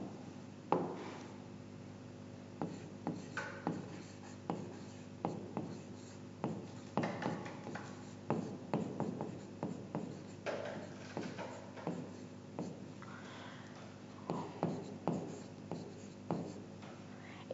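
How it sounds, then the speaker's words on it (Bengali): Writing on a board during a biology lesson, heard as a series of short, crisp scratching strokes and taps in an irregular rhythm, close and fairly quiet, with no talking over them. "তাহলে আমরা একটু লিখে ফেলি ডিএনএ এর উপাদান।"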